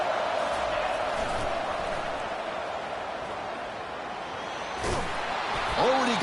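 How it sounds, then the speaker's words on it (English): Steady roar of a fired-up football stadium crowd at an Oregon versus Washington game, a dense continuous wash of cheering and shouting with a few sharper swells near the end. "It's early, but this crowd is fired up. Listen to this noise here."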